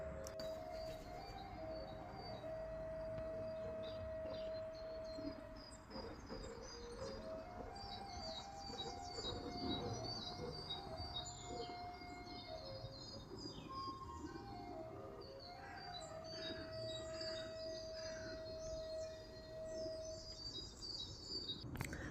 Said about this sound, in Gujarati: બધા પક્ષીઓનો કલરવ